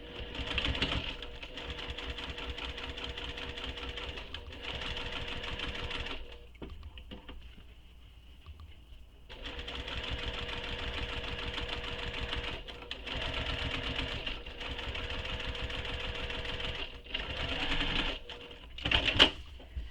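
A sewing machine stitches a seam on a crossbody bag in long, steady whirring runs. It stops for a couple of seconds near the middle, then starts up again with some short bursts.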